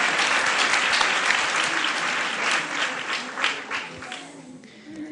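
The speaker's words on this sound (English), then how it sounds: "let's give them a round of applause for all our cooks" Applause for the cooks at a Gita Jayanti temple celebration: a roomful of people clapping steadily and evenly, close and continuous, gradually thinning slightly toward the end.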